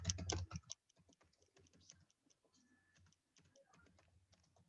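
Typing on a computer keyboard during form filling, a quick flurry of clacking keystrokes at the start followed by sparser, quieter taps and clicks, close and dry in a quiet room.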